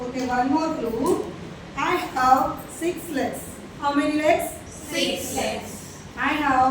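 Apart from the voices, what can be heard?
No everyday noise stands out behind the speech.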